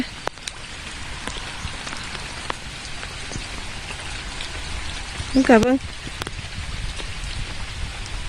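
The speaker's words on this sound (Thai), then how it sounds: "ฝนตก" Steady rain pattering on a surface with scattered drips at a rice harvest, and someone speaks briefly partway through.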